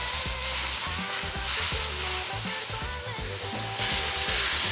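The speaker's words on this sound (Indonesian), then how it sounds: "Kita tumis sekarang. Pertama masukin bawang merah." Shallots sizzle continuously in very hot oil in a pan, a steady loud frying hiss with occasional soft stirring knocks.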